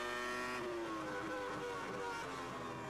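A Formula One car at the 2002 German Grand Prix holds low revs after shifting up early, a steady, buzzing engine drone with clear harmonic tones that rises slightly, loud and continuous, without talk.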